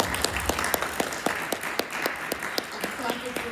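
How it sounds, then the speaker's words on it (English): An audience applauds at the Celebration 2022 podcast stage, a steady patter of many hands with sharper nearby claps standing out, while people talk faintly underneath. "I'm clapping for myself."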